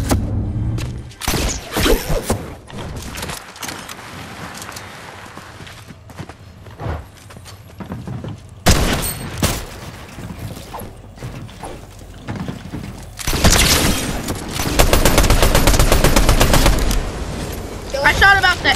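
Video game gunfire cracks out in several separate loud bursts, with quieter stretches of mechanical handling noise and a player talking in between.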